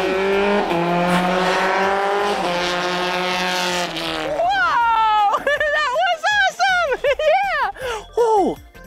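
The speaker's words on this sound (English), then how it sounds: "This is where they have F1 races. Yeah, those are really, really fast cars." Formula 1 race cars speed past on a racetrack, their engines building to a loud sustained whine and then rising and falling in rapid passes. Voices talk in the background.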